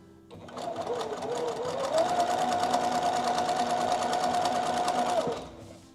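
Sewing machine stitching a flag quilt, revving up into a steady, fast mechanical whir with rapid needle ticking for several seconds before stopping, close and alone.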